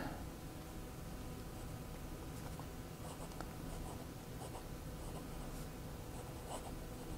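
Jinhao x750 fountain pen with Diamine ink writing on paper, a faint, continuous scratchy rustle of nib strokes with small ticks, heard close up over a steady low background hiss.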